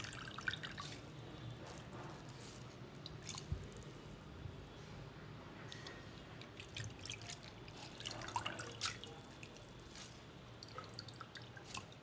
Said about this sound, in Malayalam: നല്ലതുപോലെ കഴുകി നല്ലതുപോലെ ഇത് പിഴിഞ്ഞെടുക്കണം